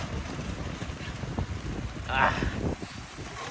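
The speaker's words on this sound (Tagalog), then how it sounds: "Sobrang lakas ng ulan." Heavy rain and strong wind batter an outdoor cooking spot where fish is being cooked, a steady, loud roar of downpour and gusts buffeting the microphone throughout, with voices speaking underneath.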